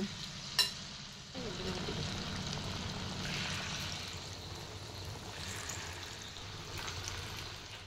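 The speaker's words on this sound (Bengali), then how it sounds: "এবার তেলটা গরম হয়ে গেছে, তেলের মধ্যে একটা একটা করে সবগুলো দিয়ে দেব।" Potato and flour batter snacks fry in hot oil with a steady, close bubbling sizzle that runs throughout, opening with a single sharp clink.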